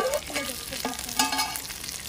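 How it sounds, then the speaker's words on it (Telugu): Taro root frying in oil for a mutton curry: a close, steady crackle and sizzle with stirring scrapes, no voices. "ఇప్పుడు చామగడ్డ నూనెలో ఫ్రై అయిపోయింది."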